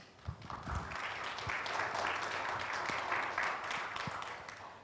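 Audience applause fills a seminar hall on food security, a dense, steady wash of many hands clapping from near and far, swelling after a few sharp nearby claps and holding for several seconds.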